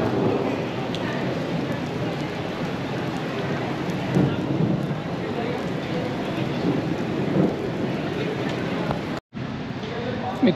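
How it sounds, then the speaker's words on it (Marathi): Rain pours steadily outdoors during a thunderstorm, a constant wash of drops with low rolling thunder rumbles swelling now and then, and the sound cuts out briefly near the end. "मित्रांनो, बाहेर पाऊस येतो आहे"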